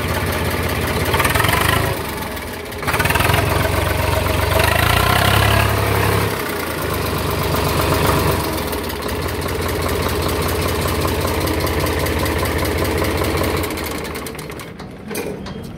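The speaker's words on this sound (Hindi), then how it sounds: "आवाज़ तो ठीक है ट्रैक्टर की" A Swaraj 744 FE tractor from 2006 with self-start idles nearby, its diesel engine chugging in a steady, loud, rhythmic knock with a few revving surges before settling into a constant idle.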